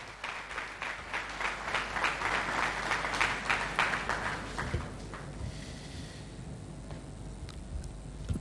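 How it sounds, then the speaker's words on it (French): Audience applause at a conference where the First Lady speaks on sexual harassment, a fairly faint crowd clapping for about five seconds, then tapering into scattered claps and quiet room noise. "Sous vos applaudissements, s'il vous plaît."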